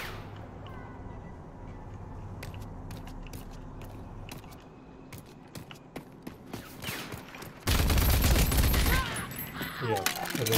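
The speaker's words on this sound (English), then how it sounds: "Shooting." Gunfire in the video game Rage 2, heard as a steady patter of distant shots over a low rumble, then a sudden loud, dense burst of firing near the end.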